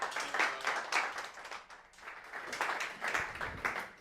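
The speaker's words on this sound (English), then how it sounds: "please give him a big round of applause" Scattered audience applause welcoming a speaker at an ABB Robotics media roundtable in a room, with uneven pulsing claps rising and dipping in waves, moderately faint, with no speech over it.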